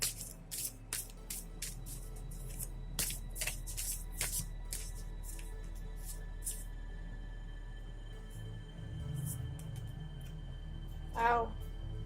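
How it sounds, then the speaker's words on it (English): Tarot cards are shuffled in a few quick riffling bursts at the start, with a couple more brief shuffles later, against a quiet room hum. "Let's shuffle out this card now."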